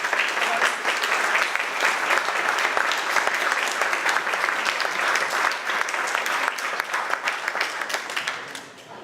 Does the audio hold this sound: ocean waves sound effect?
no